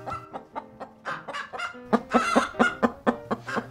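A chicken clucks in a quick, uneven series of a dozen or so close, loud clucks with short gaps, some rising into sharper squawks.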